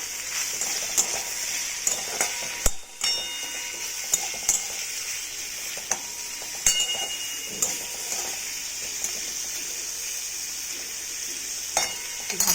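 Food in a pot gets stirred after salt and turmeric go in, a utensil scraping and clinking against the metal in irregular knocks over a low steady sizzle, close by with one sharper clack.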